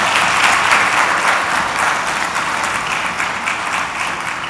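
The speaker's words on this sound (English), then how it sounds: "How about another round of applause?" An audience at a CEO summit on cyber resilience gives a sustained round of applause, a steady, loud wash of many hands clapping throughout with no speech on top.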